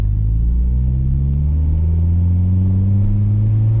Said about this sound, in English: First drive in the turbo Sentra.